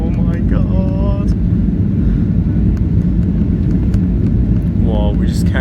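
Steady, loud rumble inside a Ryanair Boeing 737-800 cabin during landing and braking, with wind-like roar throughout, voices speaking briefly over the constant engine noise.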